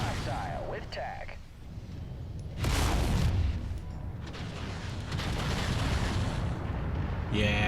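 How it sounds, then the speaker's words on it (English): Barrages of long-range missiles slam into a tank in the mech combat game MechWarrior 5, heard as loud rumbling blasts with a heavy burst near the three-second mark and continuous booming, while synthesized voice chatter sounds early on. "Let's see how many LRMs we can drop on that tank."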